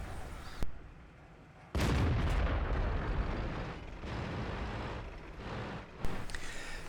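A tank gun firing in World of Tanks, a tank on the Prokhorovka map: one sharp, loud blast that rolls into a long, fading rumble, with a small pop just before it and another sharp report near the end.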